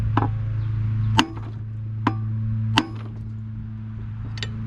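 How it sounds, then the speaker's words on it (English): Several sharp metallic whacks, about four or five, on a carburetor part of a Troy Bilt push mower, struck by a tool over a steady low engine-like hum, close and loud. "good solid whack should do it"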